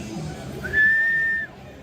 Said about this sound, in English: Thanks for the whistle.